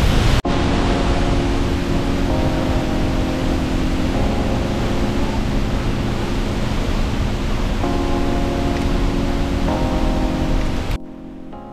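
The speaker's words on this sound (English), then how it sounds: "The day's rain meant the water was cascading over with intense force." A loud, constant roar of a rain-swollen waterfall in La Fortuna, Costa Rica, broad and steady, with faint tonal hum layered in; it cuts off abruptly at the end.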